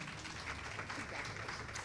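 Audience applause in a meeting hall after a board slate is elected, steady broadband clapping filling the whole short stretch at a moderate, slightly distant level.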